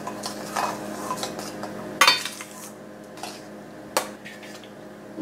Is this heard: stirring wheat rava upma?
yes